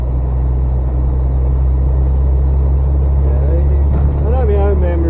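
An old MG rumbles steadily from inside the cabin while driving, a low continuous engine drone with a conversation carrying on over it.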